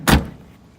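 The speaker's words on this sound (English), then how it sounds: "so that we can still open and close the door" A single close, solid thud of a Jeep Cherokee door shutting, followed by a short fading rattle and near silence.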